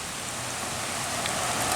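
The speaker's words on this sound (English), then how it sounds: "It is raining right now" Steady downpour of rain at a campground at Fall Creek Falls, a dense continuous hiss of drops drumming on surfaces, close and even throughout with no voices.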